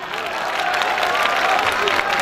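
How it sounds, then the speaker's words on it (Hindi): Festival concert audience applauding, a dense continuous wash of clapping and crowd noise, loud and sustained, with a voice faintly mixed in. "तो तालियां बजाओ।"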